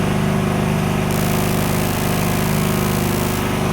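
A homemade inverter generator driven by a GAB-1-P/30 engine runs steadily close by, a loud continuous droning chug with an even rhythmic pulse throughout.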